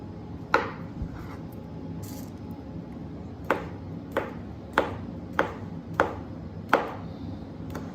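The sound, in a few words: knife slicing ingredients for gumbo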